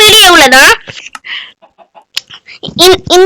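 A video game chicken clucks in short bursts between stretches of speech, with a voice talking at the start and end.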